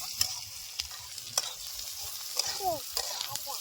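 Onion frying in oil in a pan, a constant close sizzle broken by several sharp stirring clicks and scrapes of a spoon against the pan, with no talk.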